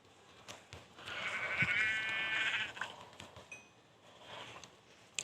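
A single video game sheep bleat, wavering and nasal, heard at moderate volume amid light clicking and tapping sounds.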